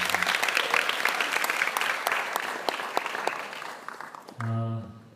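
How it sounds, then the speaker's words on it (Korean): Church congregation breaks into sustained loud applause, a dense wash of many hands clapping that fades out, followed by a brief sustained musical tone at the end. "우리 하나님께 다시 한번 뜨거운 영광의 박수 올려드리겠습니다."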